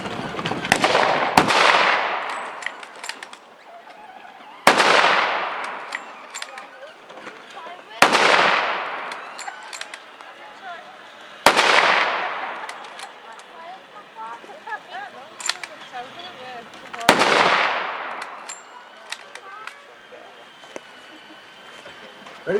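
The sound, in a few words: WW1 Mauser rifles firing at a reenactment display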